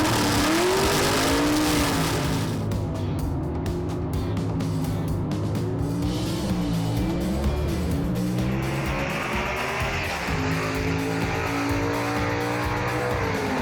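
At a gasser drag race, a 1962 Comet and a 1949 Studebaker truck roar down the strip, loud revving engines sweeping up and down in pitch as the cars launch and pass, with crowd noise behind.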